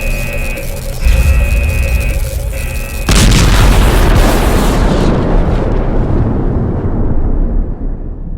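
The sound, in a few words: overcharged energy core exploding in the video game Last Days of Lazarus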